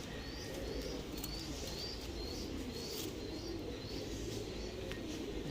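A Malwai pigeon, a Punjabi breed, coos softly and repeatedly against a steady background hiss, with faint chirps of other birds mixed in.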